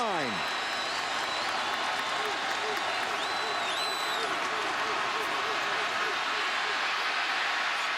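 Roaring, sustained cheering from a packed football stadium crowd at a Penn State versus Georgia game, a dense continuous wash of voices and clapping with whistles rising above it, loud throughout.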